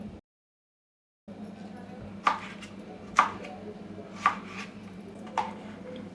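Four sharp knife chops land on a board at roughly one-second intervals as a raw mango is cut into pieces, with a faint room hum underneath.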